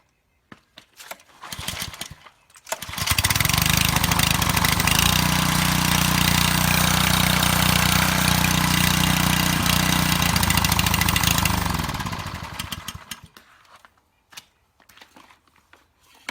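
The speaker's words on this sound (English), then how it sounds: "Today we're talking about power washers" Quiet pressure washer engine starts with a few sputters, then runs at a steady, even hum for about ten seconds before winding down and cutting off.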